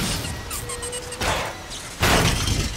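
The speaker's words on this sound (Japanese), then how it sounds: "爆発するぞ。" An explosion in the action game NieR:Automata, a sharp crashing burst near 1.2 seconds and then a louder, heavier blast at 2 seconds over busy game sounds.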